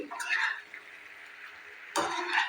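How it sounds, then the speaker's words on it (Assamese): A pan of raw jackfruit curry, its lid just removed, being stirred with a utensil: a soft scrape and clatter at the start, a quiet pause, then a louder burst of scraping and sizzle near the end, close by. "এয়া ঢাকনি গুচাই আকৌ লাৰি দিম।"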